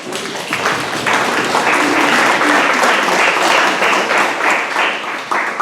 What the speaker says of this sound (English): Let's give Angela a round of applause